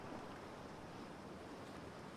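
Broad, steady water wash in a video game, the player character swimming and struggling to climb out of the water; a continuous low surf-like rush with no talking.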